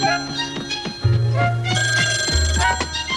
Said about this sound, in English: Hey, listen, the phone's ringing.